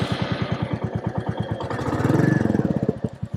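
A Royal Enfield Meteor 350 motorcycle with its stock exhaust and catalytic converter still fitted idles close by, its single-cylinder engine thumping in a steady, even rhythm that swells slightly near the end.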